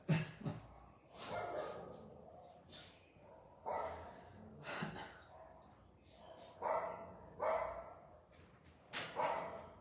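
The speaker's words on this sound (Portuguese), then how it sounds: "As cachorrinhas estão agitadas hoje" Small female dogs bark in an agitated way, their yaps coming in repeated bursts across the whole stretch, moderately near but fairly quiet overall, with some faint background voices mixed in.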